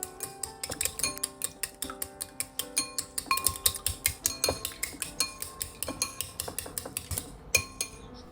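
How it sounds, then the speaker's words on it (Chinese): Two eggs are beaten in a bowl with chopsticks for a home-style bean sprout stir-fry, giving a close, quick run of bright, regular clinks against the bowl with no voices. "將2個雞蛋打入碗中，然後用筷子打勻"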